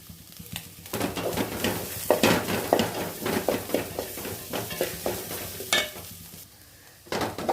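Cabbage, carrot and beans sautéing in ghee in a pan, with a steady soft sizzle and repeated scraping, stirring clicks of a spatula against the pan, close and moderately quiet.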